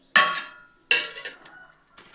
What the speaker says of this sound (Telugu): ఇప్పుడు నేను మిక్సీ జార్లో వేసుకుంటున్నాను.